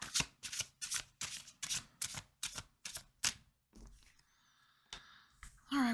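Tarot cards shuffled by hand in a rapid run of about nine crisp riffling bursts, then a pause with faint handling noise and a soft tap, close and fairly quiet with no talking.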